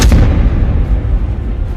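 A naval gun shell strikes the bridge of the Indonesian vessel RI Macan Tutul, fired by HRMS Everston, in a single loud blast. A heavy rumbling roar then slowly dies away.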